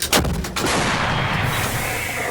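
A single heavy artillery blast booms out at the start, followed by a long rolling rumble that fills the rest of the moment.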